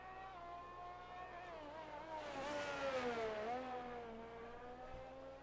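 A Formula 1 car in the video game F1 22, lapping the virtual Belgian Grand Prix in qualifying, its engine whining steadily and climbing in pitch as it passes, fairly quiet throughout.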